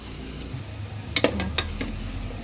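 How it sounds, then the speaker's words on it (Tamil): Tomatoes sauté in a pan with onions for paneer biryani, a soft steady sizzle under a few sharp clicks of a spoon scraping and tapping the pan, close and fairly quiet. "தக்காளி நல்லா வதக்கணும்"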